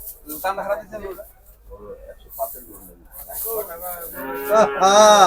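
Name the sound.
cattle mooing at a cattle market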